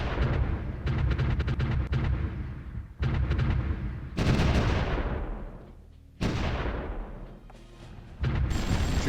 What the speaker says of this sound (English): Two sets of artillery over here just firing on that one.